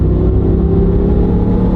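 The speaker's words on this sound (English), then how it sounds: "You can hear the pitch of the tires get louder because they are aggressive." A Ram pickup truck on aggressive four-wheel-drive tires accelerates along the road, giving a loud steady engine rumble with a droning tire whir that holds throughout, heard from inside with no voices.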